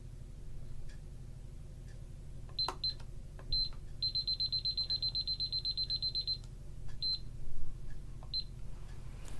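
A small timer emits a high electronic beep, first a few short chirps and then a rapid steady run of pulses lasting a couple of seconds, over a low constant hum with a few scattered clicks.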